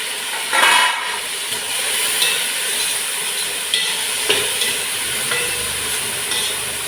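Sliced medium tomatoes fry in a pot for prawn biryani, giving a steady hiss and sizzle with a few soft stirring knocks and scrapes at moderate loudness.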